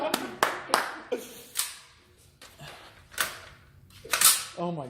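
Gunshots crack in an ammunition simulation video game with random primer ignition failures, sharp isolated reports spaced irregularly, some in quick pairs, loud and close while a person talks between them.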